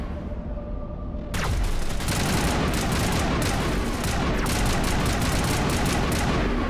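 Gunfire in the Mass Effect video game breaks out after a short quiet moment into dense, loud automatic bursts and shots that continue steadily.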